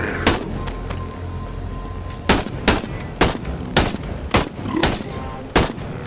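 AK rifle fire in the VR game BONELAB: a string of sharp, loud gunshots, single shots and short bursts spaced unevenly over several seconds, with no talking.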